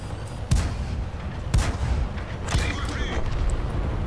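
A tank's main gun in World of Tanks fires three heavy booms about a second apart, each a sharp crack with a low rumble behind it, over a constant bed of engine and battle noise.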